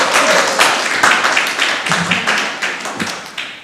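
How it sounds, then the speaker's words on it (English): Applause at a council meeting, a room of people clapping in a loose burst of close, sharp claps that trails off over a few seconds, with some faint talk mixed in. "There we go, round of applause again."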